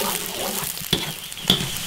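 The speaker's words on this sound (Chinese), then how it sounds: "要想肥肠好吃，一定要多给它炒一下" Blanched pork intestines are stir-fried over high heat in an iron wok with little oil, a close, continuous sizzle broken by a couple of sharp scraping stirs.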